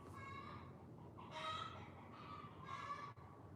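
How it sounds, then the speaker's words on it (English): Chickens cluck in short, faint bursts in the background, with several harmonic calls rising and falling over a quiet rumbling backdrop. "Chickens are having a moment."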